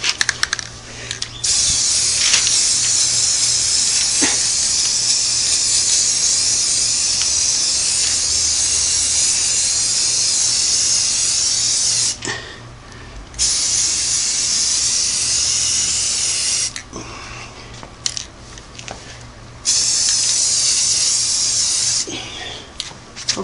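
Spray paint hisses in long, steady bursts onto the oil pan of a Singer Model 338 sewing machine. The bursts are loud and close, broken by brief pauses between passes.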